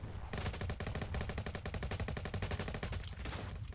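Rapid automatic gunfire in the Roblox game Jailbreak, a dense unbroken burst of shots running for several seconds, loud and close, with no talk over it.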